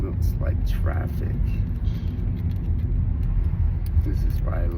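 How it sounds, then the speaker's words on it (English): Car interior on a road in traffic, with a steady low engine and road rumble throughout and faint muffled voices in the background. "Looks like traffic."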